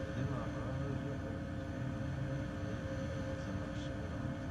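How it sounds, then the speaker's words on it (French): Spaceship engines start up in the Stargate Network video game, giving a low, steady mechanical rumble and hum with a faint tonal whine, droning quietly at a constant level. "je peux ouvrir et fermer les moteurs"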